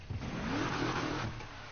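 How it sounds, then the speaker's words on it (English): A turbocharged car engine in the video game Need for Speed Heat revs and roars steadily, its rising whine suggesting a turbo spooling up, loud and close throughout with no voices. "You can hear what this turbo sounds like."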